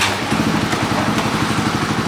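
Honda CBR150 motorcycle engine running close by after a remote start, a steady buzzing single-cylinder idle with a fast, even pulse and no talking.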